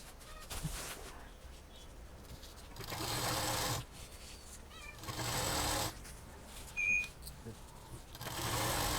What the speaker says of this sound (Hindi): अब इसको हम सिलना शुरू करेंगे।